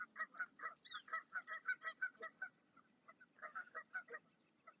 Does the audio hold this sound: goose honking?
yes